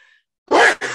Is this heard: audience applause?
no